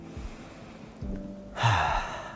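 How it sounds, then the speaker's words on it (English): A slow, audible breath drawn in during a guided spring meditation session, soft at first and then swelling into a clear breathy rush near the end. "Breathing in,"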